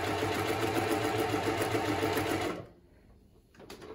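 A Privileg Super Nutzstich 5010 sewing machine runs a straight stitch with a fast, steady mechanical whir close by, then stops abruptly, leaving near silence before a few faint handling clicks.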